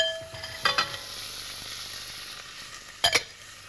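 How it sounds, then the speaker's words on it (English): Vegetables sizzle gently in melted butter in a pan, a soft continuous frying hiss broken by two brief clattering bursts of stirring or utensil contact, close and without talk. "You heat up a pan, add some butter into it, melt it, add the vegetable one by one"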